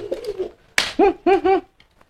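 Racing pigeons at a market fight and coo in short throaty bursts, a sharp flutter or scuffle sounding first, then two or three close cooing calls.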